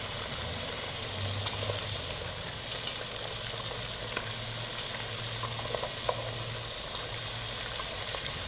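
Trout frying in oil, a dense continuous sizzle with scattered small pops and crackles, steady and close throughout.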